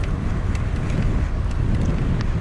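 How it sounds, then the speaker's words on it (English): Strong headwind of about 25 mph buffeting a cyclist's microphone while riding at Eastwood in Rochester, Minnesota, a loud, steady, low rumbling roar throughout with no talking. "I don't know if you're gonna be able to hear any of this with this headwind."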